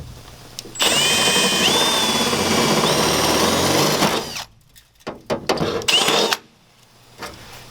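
A power drill bores a hole in metal framing, a loud, close, sustained whine with pitch shifts as the bit works through, then short stop-start bursts of drilling.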